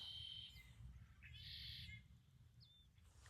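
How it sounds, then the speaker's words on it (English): Small birds and blackbirds sing beside a lake in winter hills, a few clear chirps and short warbled phrases rising over a steady low outdoor rumble, moderately distant. "I love the sound of these little birds and the blackbirds that are singing."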